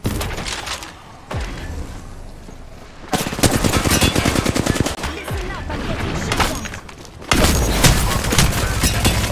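Bursts of automatic gunfire from the shooter Apex Legends, loud rapid volleys coming in several waves, with brief game voice lines in between.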